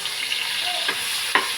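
Meat frying with tomatoes in a pan gives a steady close sizzle, with a couple of brief stirring scrapes and a small clack.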